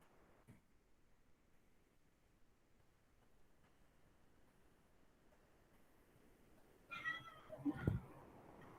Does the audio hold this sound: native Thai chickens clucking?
no